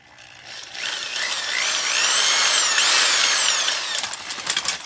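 A power drill whines loudly up to speed, its pitch climbing and wavering as it bites in, then sputters and rattles to a stop, while drilling during a fuel pump and fuel line repair on a Mitsubishi 3000GT VR4.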